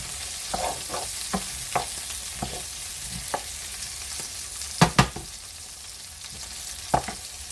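Garlic-seasoned mixed vegetables and potatoes sizzle in a pan under a steady hiss, with about a dozen scattered utensil scrapes and taps, two sharper knocks in the middle.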